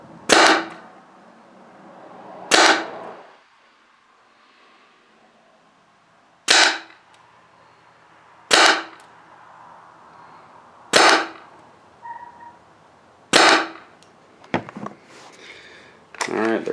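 A TechT MRT Bolt paintball marker fitted with a low pressure kit fires seven sharp, loud single shots spaced a couple of seconds apart, each snapping crack followed by a brief ring, over a quiet background.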